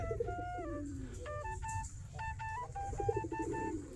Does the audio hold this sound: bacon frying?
no